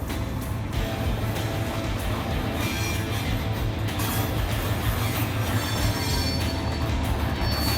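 A freight train switches cars at a grain elevator in Winchester, a loud, continuous rumble of wagons rolling close by with grinding wheel noise and occasional squeals over the tracks.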